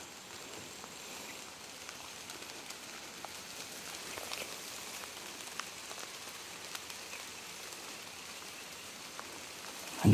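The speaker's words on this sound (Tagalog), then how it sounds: "Umuulan na." Steady rain falling on a surface, a soft continuous patter with scattered individual drops, no voices.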